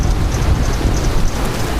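Hail and rain fall during a supercell thunderstorm, a loud, continuous broadband hiss and patter with a low rumble underneath and no clear individual strikes.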